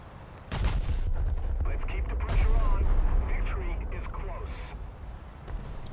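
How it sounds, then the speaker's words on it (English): Naval gunfire in World of Warships, with a ship's shell room detonating in the distance: heavy booming blasts and rumbling explosions that roll and fade, with someone talking over the battle. "Something just detonated the shell room on that Fuso over there in the distance."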